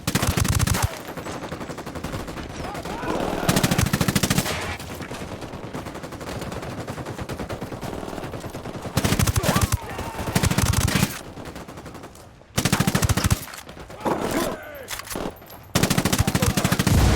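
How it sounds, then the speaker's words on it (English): Rapid machine gun bursts from the video game Ghost Recon Wildlands rattle out loud and close in several long volleys, broken by short pauses and with some faint background voice. "I'm shooting these fuckers."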